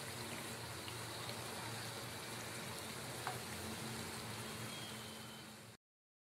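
Puris for a sweet frying in hot oil give a steady, even sizzle and bubble at close range, with no talk, for nearly six seconds before cutting to silence.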